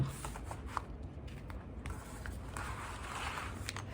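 Scissors cutting paper in short snipping strokes, a few crisp clicks and rustles close by, followed by a longer soft swishing slide of paper.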